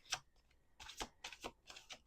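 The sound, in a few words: shuffling tarot cards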